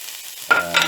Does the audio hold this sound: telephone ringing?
no